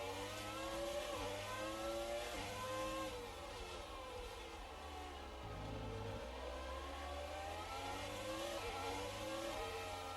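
A 641 racing car's 3.5-liter V12 in F1 2019 at Interlagos screams loudly and continuously, pitch rising and falling through repeated upshifts and downshifts, with no talking.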